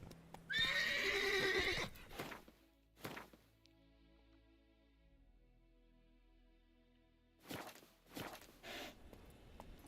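A horse in The Witcher 3 game gives a loud whinny, then a few hoof thuds follow, a quiet stretch, and more clopping steps near the end.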